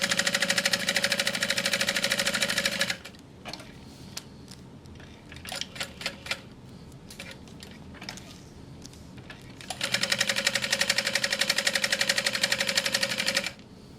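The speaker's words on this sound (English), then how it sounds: "So we're just going to top stitch this." A sewing machine top stitches a SWIG bag in two steady, fast-running bursts, one at the start and one near the end, with a quieter stretch of small handling clicks between them.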